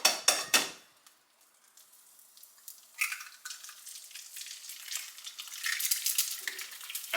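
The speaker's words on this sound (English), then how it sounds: "the pan is quite hot. So then we're gonna go with the eggs first" Eggs going into a hot breakfast pan: a few sharp clacks, a brief quiet, then a crackling sizzle that builds steadily and stays close.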